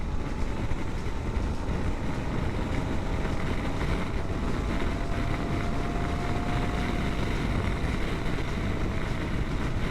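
Riding a 2023 Harley-Davidson Pan America Special adventure motorcycle, heard as a steady, loud roar of wind and road noise with a faint engine drone underneath.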